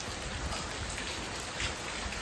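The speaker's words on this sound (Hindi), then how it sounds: "देखो इतनी बारिश हो रही है" Heavy rain pours steadily in a rural village, a dense, unbroken hiss that fills the whole clip with no pauses and no voices.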